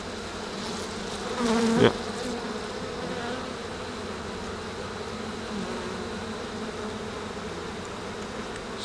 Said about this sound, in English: that may explain the hot hive that just stung me in the face